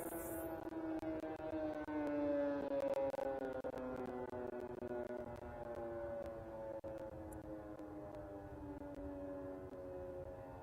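Several civil defense air raid sirens across Kyiv, Ukraine wail together from a distance, their overlapping tones slowly gliding and sustained throughout, with no voices.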